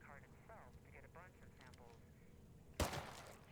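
A single loud gunshot in a zombie video game rings out near the end, sharp and sudden, following quiet speech over a low background.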